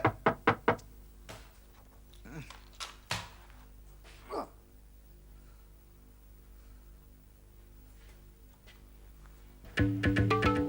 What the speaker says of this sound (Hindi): मेरे कमरे का दरवाजा क्यों खटखटा है?